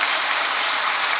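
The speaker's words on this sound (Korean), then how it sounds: "박수" Church congregation at a Catholic Mass during a Holy Spirit seminar claps briefly, a dense continuous patter of many hands with no voices.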